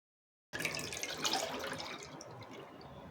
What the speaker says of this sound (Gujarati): તો કઢાઈની અંદર આપણે અહીંયા બધું જ પીસેલું લઈ લઈશું.